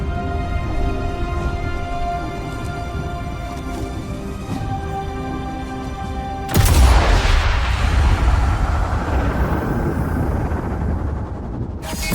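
In the Sniper Elite 5 video game, a single sniper rifle shot cracks loudly over quiet tonal background music, followed by a long, rumbling echo that slowly fades.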